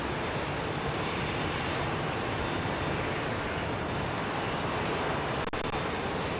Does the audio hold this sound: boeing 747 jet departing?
yes